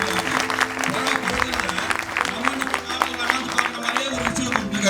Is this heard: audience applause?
yes